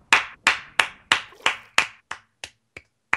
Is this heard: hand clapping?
yes